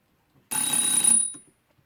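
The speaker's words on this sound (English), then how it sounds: "I'll just change the time on that alarm so it doesn't keep ringing when I take it off." A small vintage HAC alarm clock's bell rings in one loud, fast metallic rattle lasting under a second, then cuts off, close and alone.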